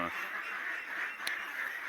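Large egg-laying ducks on a farm quack in a steady, dense flock chorus at moderate distance, with one sharp brief call standing out near the end.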